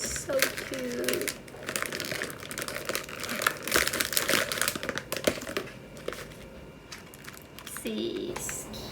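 Plastic packaging of a rice cracker snack crinkles and rustles continuously at close range, with someone talking over it.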